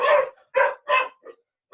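Several sharp dog barks in quick succession, close and loud, with brief silences between them.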